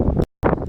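Wind gusting hard across a microphone beside old river piers on a muddy foreshore, loud blustery roar that drops out briefly and then returns.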